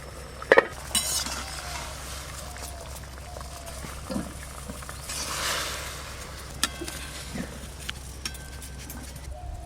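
Cauliflower is parboiled in a pot, with a low bubbling boil, a few metallic clinks of a utensil against the pot, and a swell of sloshing stirring midway, heard close and fairly quiet.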